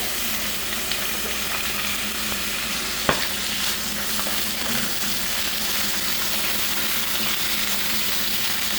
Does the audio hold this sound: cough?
no